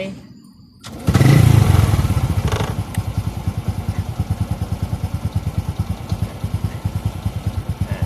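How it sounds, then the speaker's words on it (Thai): A motorcycle engine with a newly replaced battery cranks and catches after a moment of near silence, then settles into a steady, close idle with an even, thumping rhythm. "ทีนี้สตาร์ทเครื่องครับ เพื่อจะเช็คว่าระบบไฟชาร์จทำงานไหม"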